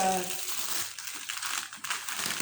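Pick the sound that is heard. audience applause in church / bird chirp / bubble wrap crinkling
bubble wrap crinkling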